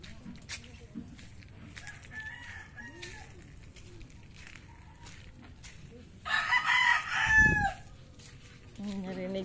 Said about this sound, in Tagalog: Narinig ko yung tigtala ako ng manok.